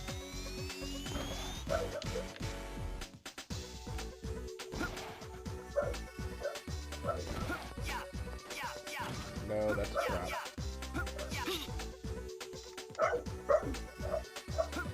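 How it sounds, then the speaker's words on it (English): A dog barks and yips in the room behind dense music and sound effects from the video game Megaman ZX Advent, the barks recurring through the stretch and partly masked, with a player's voice speaking briefly. "Whose dog's barking?"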